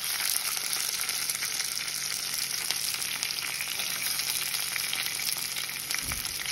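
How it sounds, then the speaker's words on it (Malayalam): Onions and curry leaves fry in hot oil with a dense, continuous bright sizzle and crackle, steady and close, with a brief low clunk near the end and no talking. "അതിനകത്തോട്ട് നമുക്ക് ഉള്ളി ഇട്ട് കൊടുക്കാം."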